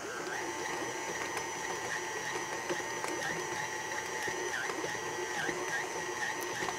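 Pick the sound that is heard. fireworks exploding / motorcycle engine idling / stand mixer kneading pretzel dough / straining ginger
stand mixer kneading pretzel dough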